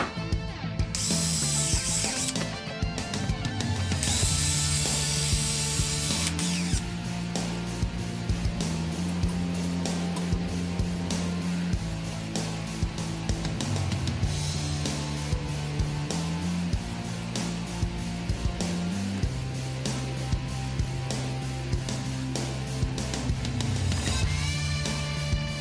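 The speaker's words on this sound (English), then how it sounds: "I'm going to have to drill that out as well." A power drill bores holes through a Greyhawk Ultraguard mudflap, with a loud, steady whir and a ratcheting mechanical chatter that run without a break and with no talking.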